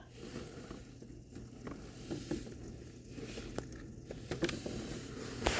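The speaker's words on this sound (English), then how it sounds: "Rain is starting to chill out now." Light thunderstorm rain that is easing off patters softly and faintly, with scattered small drips and crackles over a quiet background.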